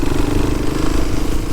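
A 1988 Honda XL200R motorcycle engine drones steadily and loudly up close while riding through the gears, with a dense continuous rumble and clatter and no voices.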